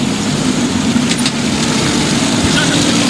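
A car engine runs steadily on a neglected Nigerian road, a continuous low rumble throughout with faint voices mixed in.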